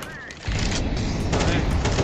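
Rapid gunfire crackles in Counter-Strike: Global Offensive, a dense, loud burst of shots filling most of the moment after a brief lull.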